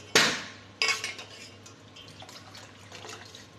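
Two splashes of water poured into a metal pot of Kashmiri pink tea, followed by scraping and clinking of stirring.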